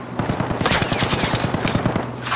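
Rapid automatic gunfire in the video game Call of Duty: Modern Warfare, near a police station: a loud, close burst of evenly spaced shots running for about two seconds.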